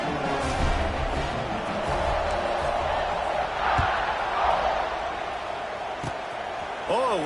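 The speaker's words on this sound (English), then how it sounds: "this crowd is buzzing after that last score" Stadium crowd in an American football video game buzzing after a score, a broad steady roar of many voices with occasional thumps, under a commentator's talk.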